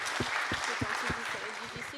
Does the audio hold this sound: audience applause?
yes